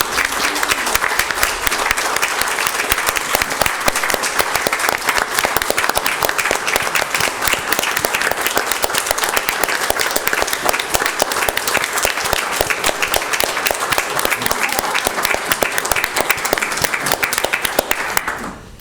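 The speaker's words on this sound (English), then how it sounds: "Please join me in a round of applause for these outstanding Bunker Beach lifeguards." A room full of people gives sustained applause for Bunker Beach lifeguards at a Board of Commissioners meeting, a dense, even roar of clapping that stays loud and constant for nearly twenty seconds before trailing off.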